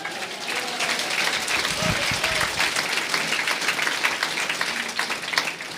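Church congregation applauding together in a steady, dense wash of clapping, fairly close and sustained throughout, with faint voices mixed in.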